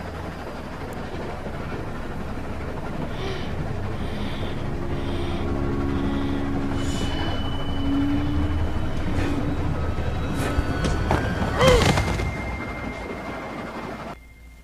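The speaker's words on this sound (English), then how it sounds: "Come on, Kenny, just stop the train." A train rumbles steadily in The Walking Dead video game, a continuous low mechanical drone with a brief sharper screech and clank near the end, heard alone without talk.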